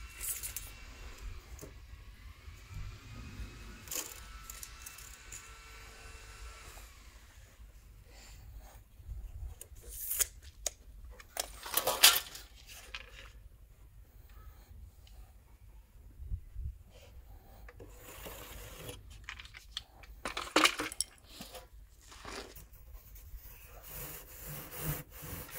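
Basalt mineral wool slab being cut with a hand saw, soft rasping strokes in uneven bursts with pauses between, fairly quiet and close, no talking.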